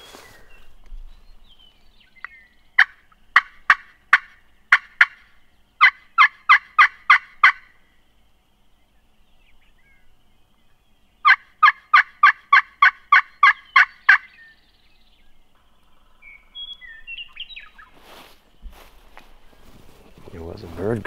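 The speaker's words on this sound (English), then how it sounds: "It was a bird gobbling." A wild Merriam's turkey gobbling on public land by a creek, several loud bursts of rapid rattling gobbles in clusters, with quiet gaps between and a rumble near the end.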